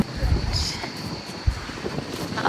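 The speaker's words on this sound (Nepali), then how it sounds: "हावाहरू चलिरहेछ साथीहरू" Wind buffets the microphone outdoors at a hilltop view tower during rainy weather, a gusty low rumble with a soft thump partway through.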